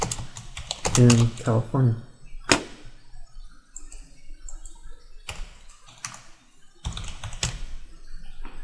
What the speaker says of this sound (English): I should learn how to type faster.